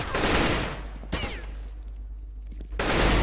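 Rifle gunfire in a 2v2 tournament match of a first-person shooter, including an M4: sharp, loud shots crack in quick bursts at the start, after a brief pause and again at the end, with quieter game sounds between.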